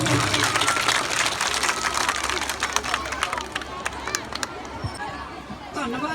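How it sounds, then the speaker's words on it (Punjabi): Audience applause at a village Teeyan women's festival gathering, a dense wash of many hands clapping with crowd chatter mixed in, steady and fairly loud, thinning slightly toward the end. "ਇੱਕ ਵਾਰੀ ਜ਼ੋਰਦਾਰ ਤਾੜੀਆਂ ਲਾ ਦਿਓ ਸਾਡੇ ਮਾਤਾ ਜੀ ਲਈ"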